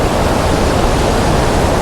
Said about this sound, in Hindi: अब आपको नज़दीक से दिखाते हैं ये वाला वाटरफॉल।